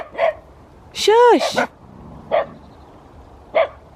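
Pet dog Barkley barks in short bursts outdoors on a walk, a yelping whine-bark in the middle between single sharp barks, with a person briefly hushing it.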